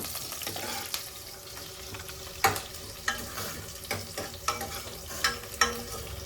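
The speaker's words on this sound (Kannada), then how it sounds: "ಇದು ಬ್ರೌನ್ ಆಗಲಿ. ಆನಿಯನ್ ಚೆನ್ನಾಗಿ ಬ್ರೌನ್ ಆಗಬೇಕು." Onion and ginger garlic paste fry in a pan for a Tamil Nadu style mango sambar, a steady sizzle broken by repeated sharp stirring scrapes and clinks, close and fairly loud with no talk.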